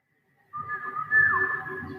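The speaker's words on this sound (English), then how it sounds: "she's following the whistle of her friend" A friend's whistle in a show scene, a bright steady tone rising midway and holding alone for about a second and a half, with no talk.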